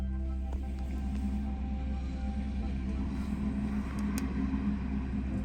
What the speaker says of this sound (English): I'm not sure if you guys can hear the wind,